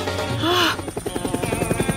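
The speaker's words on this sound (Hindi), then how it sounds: "देखो हेलीकॉप्टर है वहाँ।" A helicopter's rotor gives a steady, fast thudding pulse that fills the scene after a brief wailing tone at the start. The sound is fairly loud and close.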